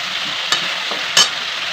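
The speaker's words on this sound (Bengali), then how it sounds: "আবার কথা হচ্ছে কাঁচা লঙ্কা আদা দিয়ে ভালো করে কষাতে হবে" Mixed vegetables sauté with green chilli and ginger in a hot pan, a loud steady sizzle broken by two brief stirring scrapes.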